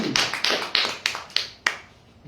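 A church congregation claps for God during a sermon, about six sharp separated claps in a loose, uneven rhythm, close and fairly loud, with no talking over them.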